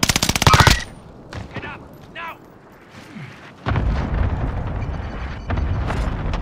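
Video game gunfire in a battle royale match, a loud rapid burst up front, then quieter stretches with scattered shots and a sustained rumbling volley later, with voices talking over it.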